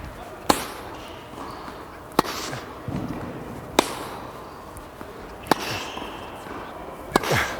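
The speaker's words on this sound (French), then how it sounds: "C'était vraiment le fun de frapper des balles avec toi." Tennis balls struck with rackets during an outdoor rally between two players, a series of sharp, well-spaced pops roughly every one and a half seconds, moderately close over a faint outdoor background.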